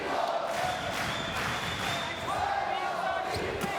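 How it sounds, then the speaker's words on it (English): A sold-out boxing arena crowd chants for Puerto Rico at a homecoming fight, a steady loud roar of massed voices filling the hall beneath a commentator's talk. "Sold out crowd chanting Puerto Rico."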